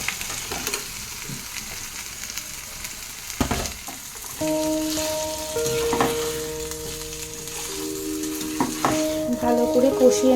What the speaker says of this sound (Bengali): ভালো করে কষিয়ে নেব মাছের সঙ্গে